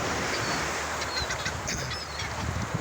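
Seagulls calling and squawking while feeding on crumbs dumped from a box outdoors, a steady stream of honking cries over constant wind or surf noise.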